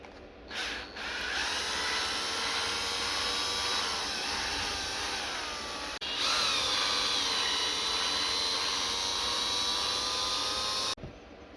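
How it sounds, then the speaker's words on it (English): Power drill spinning out a long bumper screw on a TRX4 Ford Bronco model, a close, continuous whirring motor with brief stops and restarts, its pitch shifting as the screw backs out. "It's a very long screw, so I'm gonna use the power drill."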